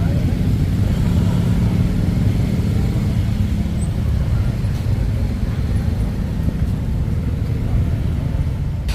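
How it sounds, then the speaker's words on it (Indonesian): Dense, slow-moving holiday homecoming traffic at night on Jalan Abu Bakar Ali near Malioboro, Yogyakarta, with a steady low rumble of cars and motorcycles that stays constant throughout, heard from a second-floor vantage point. "terlihat lalu lintas saat ini padat merayap. Ribuan kendaraan pemudik mulai memasuki kawasan Malioboro"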